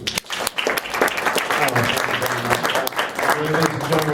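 An audience applauds at an art show event. The clapping is loud and sustained, with sharp individual claps near the front, and voices and cheering are mixed into it.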